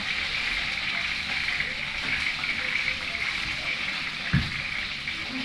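A washing machine runs with water churning inside, a steady hissing wash with one brief low thump near the end, no talk over it.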